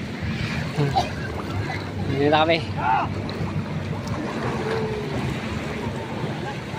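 A fishing boat (bangka) is pushed into the sea, with wind, water sloshing and splashes against the hull while several people shout and talk throughout.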